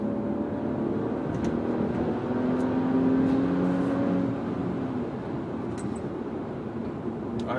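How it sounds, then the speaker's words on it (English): A 2019 Mercedes-Benz E350 AMG Line W213 accelerating hard, its engine giving a steady, loud, continuous roar from inside the cabin throughout, with no talking. "Gunning the car now."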